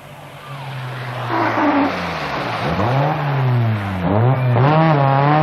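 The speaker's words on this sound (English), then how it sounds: "Mikkola is using the four-wheel drive Quattro to good effect" Audi Quattro four-wheel-drive rally car on a special stage at the 1981 1000 Lakes Rally in Finland, engine rising and falling through gear changes as it approaches and passes close by, loud and revving hard.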